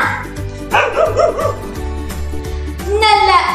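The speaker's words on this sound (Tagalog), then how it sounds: "daytoy met ket aso" A dog barks and yips repeatedly in quick bursts, fairly loud and close, with a higher whine or whimper near the end and background sounds underneath.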